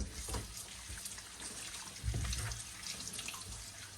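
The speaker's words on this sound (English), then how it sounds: "Actually, no, I'll rinse them first." Food being rinsed under a running kitchen tap before going into the pot, a steady, close rush of water into the sink with splashy surges as the items are turned under the stream.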